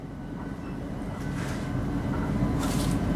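Steady low rumble of a South Western Railway 10-coach passenger train running between Sunningdale and Virginia Water toward Longcross, heard from inside with continuous rolling noise and no talk.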